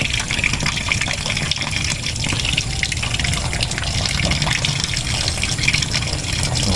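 Water gushes steadily from a drum, a continuous rushing, splashing flow that stays loud and even from start to finish, with no voices.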